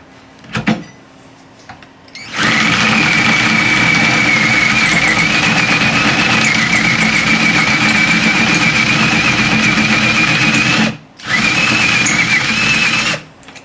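An orthopaedic plate cutter cutting a metal bone plate gives a loud, steady motorised whine that runs for about eight seconds, stops, then starts again in a brief burst, preceded by faint handling clicks.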